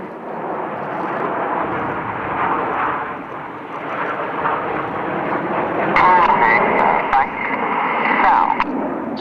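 Red Arrows Hawk jets roar through high-speed rollbacks at an air display, a broad, loud jet rumble under the steady voice of a public-address commentator.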